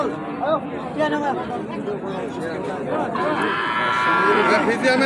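Bull calves at a busy cattle market, with a few nearby moos and lowing calls rising over the constant chatter of people talking close by and a crowd murmuring in the background.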